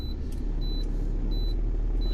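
A semi truck's diesel engine idling steadily after starting, a continuous low rumble with faint periodic high beeps, no cranking evident.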